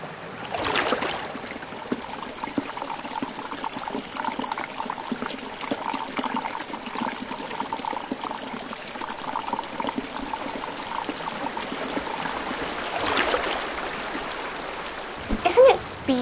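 Water flows in a steady, gentle trickle and stream that runs unbroken for several seconds, fairly close, with faint voices in the background and a brief knock near the end.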